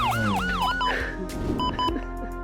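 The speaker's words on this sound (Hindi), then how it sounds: "मैं एम्बुलेंस बुला रहा हूँ।" A siren wails in rising and falling sweeps, fairly close, then cuts out amid clattering noise.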